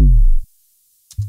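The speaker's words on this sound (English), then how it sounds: "so you hear that little roll off in the filter at the end." A bass drop produced in Logic Pro X: a loud, deep tone sweeps downward and fades as a filter rolls off. Near silence follows, then a brief second low hit.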